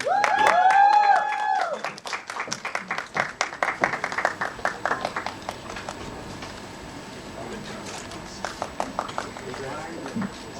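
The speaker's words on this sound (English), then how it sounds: "The claps and hooting should keep coming." Audience at an Ek Villain Returns event breaks into rapid applause after a loud musical sting, the clapping fading to scattered claps while a voice speaks over the crowd.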